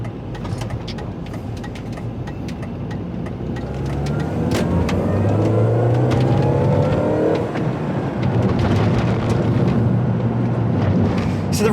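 Supercharged 1600cc engine of an R53 Mini Cooper S revving up, starting rough and building into a louder sustained rising drone with whooshing wind noise over the microphone.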